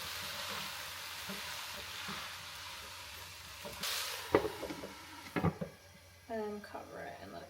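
Meat goes back into a hot frying pan with a bright, broad sizzle, followed by a few sharp clatters of utensils against the pan and a brief spot of nearby background voice toward the end.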